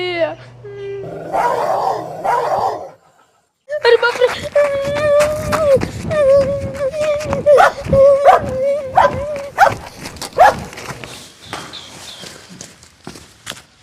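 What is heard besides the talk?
dog barking and whimpering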